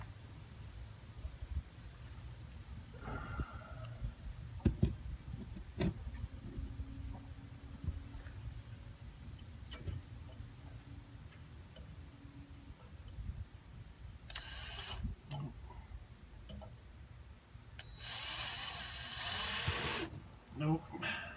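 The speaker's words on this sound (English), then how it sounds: "Let me try drilling this out" A power drill bores out part of a 5665 jack stand, heard in a few short, harsh bursts late in the stretch, the longest lasting about three seconds, over a low, rumbling workshop background.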